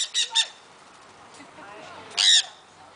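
Birds at a feeding squawk in sharp, loud bursts, two quick calls at the start and a longer harsh squawk near the end, with quiet background between.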